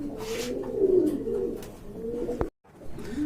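A pair of large Yellow Mumbai pigeons coo in low, rolling phrases, close and clear, with a sharp click and a brief dropout near the end.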